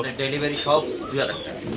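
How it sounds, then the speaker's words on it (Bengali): Fancy pigeons coo on a pigeon farm at a Rajshahi market. The short, close, throaty coos overlap in a busy cluster. "এই পুরোটাই হচ্ছে ভাইয়ের ফেন্সি কবুতরের খামার"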